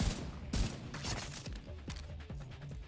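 M1A rifle shots in The Division 2, several separate sharp reports spaced about half a second apart over background combat noise.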